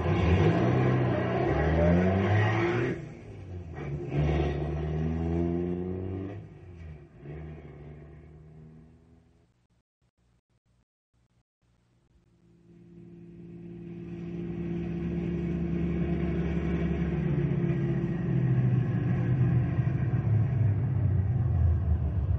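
A car engine in an old radio drama revs and rumbles as it pulls away, fades out to near silence, then a steady engine drone returns and builds, loud and close, with no talking.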